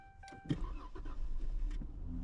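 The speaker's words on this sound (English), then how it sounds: "And the car starts right up." A 2013 Dodge Charger engine cranks and catches, settling into a low steady idle after a brief chime and a faint click.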